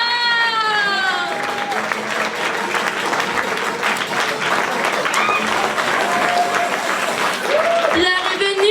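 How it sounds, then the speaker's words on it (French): Audience applauding at a school theatre show, continuous dense clapping filling the room while voices and sliding vocal or musical tones sound over it. "Alors on applaudit bien"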